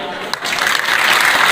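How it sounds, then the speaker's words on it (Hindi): Audience clapping at a Parents Worship Day ceremony, a dense steady wash of applause that builds and stays loud for the whole stretch, with no clear voices. "अब ताली बजाएंगे"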